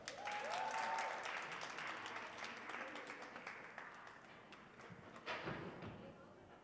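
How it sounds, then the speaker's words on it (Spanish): Sustained applause greets students at a school awards ceremony. It is moderately distant, fairly steady for several seconds and fades slightly toward the end, with a brief whistle near the start. "Les reiteramos entonces un fuerte aplauso a nuestras alumnas que han iniciado el programa del Diploma del Bachillerato Internacional."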